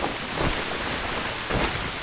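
Steady, heavy rain hisses in the game TERA, a dense, even wash of noise with a couple of brief swells, and no voices over it.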